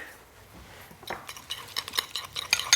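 Oil stirred into basil with a spoon, faint light clinks and scrapes against a small bowl that come quicker and louder toward the end, with no talk.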